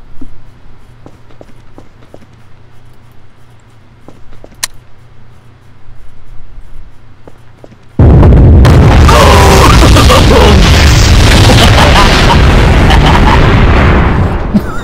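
A detonator explosion in the Garry's Mod video game bursts in as a sudden, very loud roaring blast halfway through, sustained and distorted for several seconds after quiet ticks and faint game noise.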